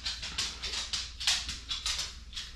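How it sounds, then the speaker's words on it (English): A dog pants rapidly and whimpers close by in a home kitchen while chicken is being cooked, with quick rhythmic breaths in short bursts and no talking. "Please excuse my dog."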